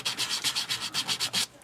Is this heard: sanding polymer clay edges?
yes